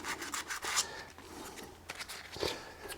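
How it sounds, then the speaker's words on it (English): Sandpaper rubbing over foam rubber during a guitar build, giving soft, irregular scratchy strokes at close range, quiet and steady with a few brighter rasps, and no talking. "the nice thing about this foam rubber is that you can clean it up with some sandpaper"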